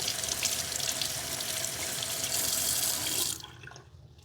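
Water runs steadily from a tap with a bright hiss, as if rinsing hands under the stream, then shuts off near the end, leaving faint drips.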